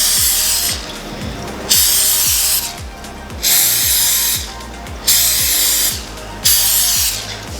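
Cooking oil sprayed from a can into small glass ramekins: about five sharp, close hissing bursts, each roughly half a second long, spaced evenly apart, with faint tapping beneath.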